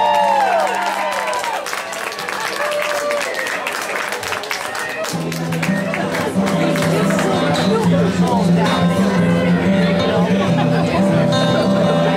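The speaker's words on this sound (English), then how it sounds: "give the Mustaka family a warm round of applause for having this event again" An audience applauds and cheers at an outdoor event, clapping loud and continuous over crowd chatter and a background voice on a sound system.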